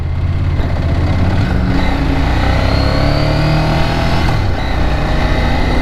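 A Ducati 600SS motorcycle engine revs loudly while being ridden, its pitch climbing and dropping through gear changes over a strong, steady engine roar heard up close.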